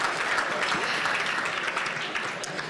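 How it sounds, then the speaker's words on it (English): Many hands clap together at a St. Patrick's Day luncheon, a dense, sustained burst of applause from the audience that stays loud and even, then tapers slightly near the end. "All right, he got some claps."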